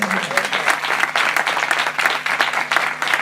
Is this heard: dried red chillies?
no